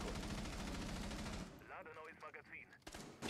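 Rapid gunfire in Rainbow Six Siege, a dense burst of shots for the first second and a half, followed by sparser clattering game sounds and a few sharp hits near the end.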